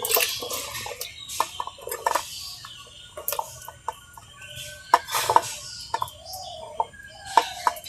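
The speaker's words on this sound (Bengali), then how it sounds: "এখন আবার ধুয়ে নেব।" Water splashing and dripping over cut bottle gourd pieces as they are washed in a kitchen, with irregular sharp clinks and splashes, close and fairly loud.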